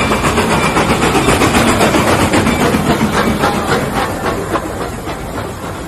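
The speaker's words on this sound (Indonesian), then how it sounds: "Lokomotif." A toy steam locomotive train runs with a loud, dense hissing chuff, close up and continuous, easing slightly quieter toward the end.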